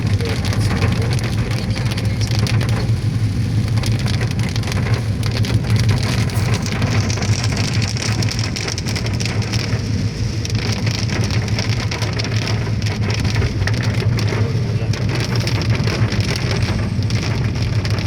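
Heavy rain pounds steadily on a car roof and windshield during a drive home, a dense continuous roar over a low engine and road rumble.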